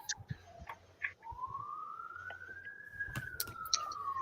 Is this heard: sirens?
yes